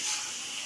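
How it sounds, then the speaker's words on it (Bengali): Leafy greens frying in a pan in a home kitchen, giving a steady close sizzling hiss for a brief moment with no talk. "শাক ভাজছে।"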